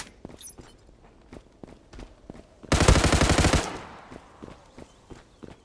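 Rapid automatic gunfire in the online shooter Zula, a dense loud burst of about one second standing out over steady running footsteps and scattered single shots.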